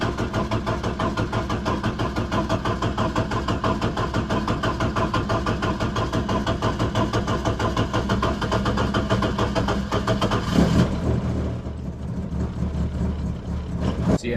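A Ford Escort Mk1 engine cranks over, then runs with a steady, rhythmic, loud idle heard up close for most of the stretch, its pulsing beat shifting near the end as it settles.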